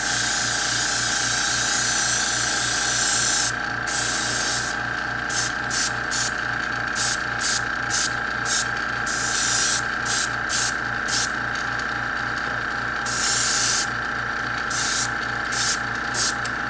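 Gold paint sprays from an airbrush in loud hissing bursts that start and stop repeatedly, over a steady buzzing compressor hum with a fast pulsing beat underneath.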